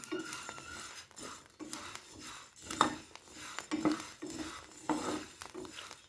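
Uncooked rice grains stirred in a dry pan while roasting for puffed rice, with repeated scraping and rattling strokes of a utensil against the pan at an irregular, steady pace, close up.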